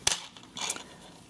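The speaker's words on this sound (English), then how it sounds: "and cut that extra end off." Scissors snip off the loose end of yarn during knitting, giving a sharp close cut near the start and a softer second snip just after, quiet and without talk.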